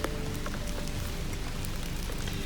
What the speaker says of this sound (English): Sounds like the rain's trying to pick up again.